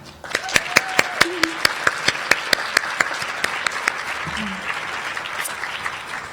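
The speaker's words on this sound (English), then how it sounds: "Could we give a round of applause to Dan Kozalik?" Audience applause at a child welfare service awards ceremony, with sharp individual claps standing out over a steady wash of clapping that lasts several seconds and fades slightly; brief voices are heard underneath.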